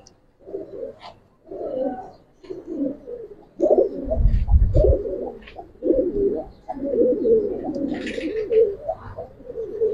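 Silver Giribaz and coloured pigeons coo in repeated soft, throaty bursts close by, with a brief low thump and faint chirps in between.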